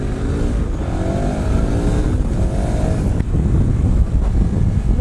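A 2018 KTM 1090 Adventure R motorcycle engine pulls hard and climbs in pitch as it accelerates, loud and close, with steady wind rush over the microphone.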